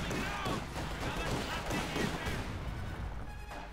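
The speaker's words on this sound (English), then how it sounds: "grenade assault there from Price's infantry" An infantry grenade assault in Company of Heroes 2 sounds as a dense cluster of booming explosions and crackling gunfire, loud and continuous, with a commentator's voice running underneath.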